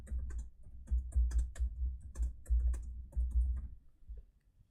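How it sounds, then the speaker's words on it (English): Quick, uneven bursts of key clicks come from a computer keyboard being typed on fast, with short pauses between runs. The sound is close and fairly faint, with no voices. "This is me trying to type really quick now."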